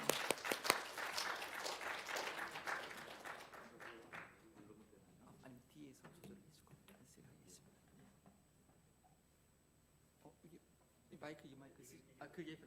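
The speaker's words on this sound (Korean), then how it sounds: "우리 함께 박수로 환영하겠습니다" A church congregation applauds to welcome a missionary, a loud burst of clapping for the first three seconds or so that fades out, followed by quieter room noise, scattered taps and murmured voices.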